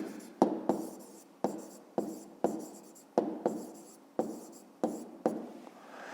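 A pen or pencil writes on paper while solving a fifth-grade maths exercise, with about ten separate strokes, each a sharp scratch that fades, evenly spaced and close.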